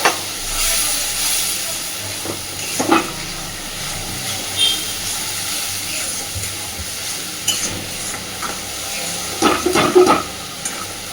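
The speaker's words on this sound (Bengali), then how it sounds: "মশলাটাকে খুব ভালোভাবে কষাতে থাকবে" Spice paste with garlic sizzling and being stirred in a pan for a pangas fish curry, a loud steady hiss with occasional scraping strokes, strongest near the end.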